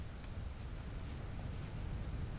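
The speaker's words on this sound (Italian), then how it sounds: "Allora, si sta piovendo." Rainfall in the video game Vintage Story, an even, constant patter and hiss with a faint low rumble beneath, steady and unbroken from start to finish with no voices.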